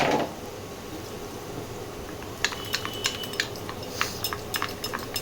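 A spoon clinks and scrapes against a bowl in quick, irregular taps while mixing with yogurt, close up, after a short burst of noise at the start.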